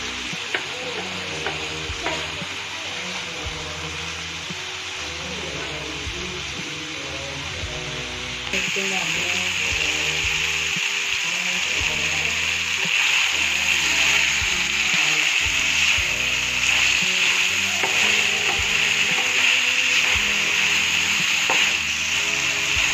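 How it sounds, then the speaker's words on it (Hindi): Guar beans (cluster beans) fry in a pan with a steady sizzle and stirring scrapes; partway through, water is added and the hiss grows louder and brighter while someone talks over it. "इसको मैंने थोड़ा सा भून के और मैं थोड़ा सा इसको पानी लगाऊंगी"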